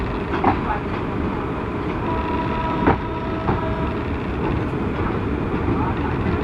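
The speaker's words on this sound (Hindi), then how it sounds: "लोकोमोटिव के साथ खड़ी है ये वाली ट्रेन अंबिकापुर एक्सप्रेस" The Durg Ambikapur Express, an empty rake standing with an ALCO locomotive outside a platform, sits amid a dense, steady rail rumble with a few faint clanks and tones, and talk running underneath.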